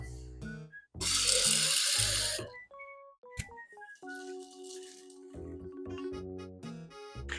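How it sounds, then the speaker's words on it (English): Water pours into a container for homemade nut milk in a loud, steady hissing rush lasting over a second, then a few small knocks under background music. "You add a bit of water."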